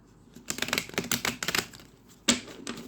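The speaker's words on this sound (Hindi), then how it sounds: "एक अच्छा सा शफल देते हैं" Tarot cards are shuffled close by in a quick series of crisp, papery clicking bursts, short pauses between them, fairly quiet overall.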